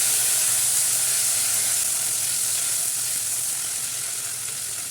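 Steady, loud sizzling of crushed ingredients sautéing in a hot pan for Tamil tomato rice, a continuous bright hiss with little change for five seconds and no voices.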